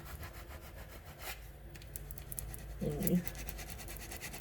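Transfer tape being scraped down over vinyl letters on a handmade fake ice cream cookie sign, a soft rubbing scratch that swells briefly near the end, with a few spoken words over it.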